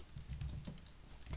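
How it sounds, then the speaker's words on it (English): Steady typing on a Mac computer keyboard, a rapid run of close, crisp key clicks with no talking. "I'm just going to type that for now because my Mac keyboard isn't cooperating."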